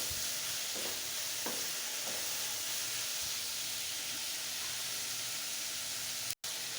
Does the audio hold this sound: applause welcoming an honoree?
no